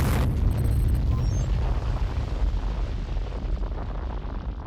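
A heavy mass cannon explosion from the anime Knights of Sidonia lands as a loud, deep boom that rolls on as a dense, rumbling roar and slowly fades.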